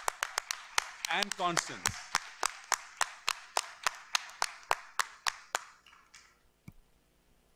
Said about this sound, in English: I just wanted to give a round of applause for Kathy and for Marcus